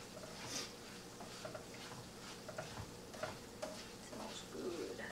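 Garlic chili oil is stirred in a hot pan just taken off the heat, giving a steady soft sizzle with small scraping and clinking accents and no talk throughout.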